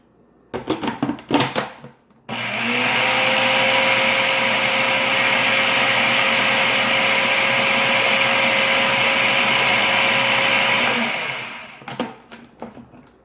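A kitchen blender whirs steadily for about nine seconds, mixing basil pesto with salt; the loud, even motor drone starts abruptly and winds down, with short clatters of handling before and after.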